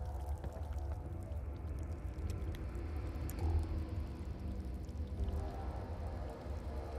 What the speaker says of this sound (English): The sound of trickling water.